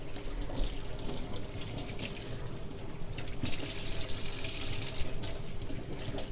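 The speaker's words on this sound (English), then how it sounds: "So I'm rinsing away the crumbs." Water runs steadily from a kitchen sink tap to rinse crumbs away, a continuous close splashing rush with slight shifts in the flow.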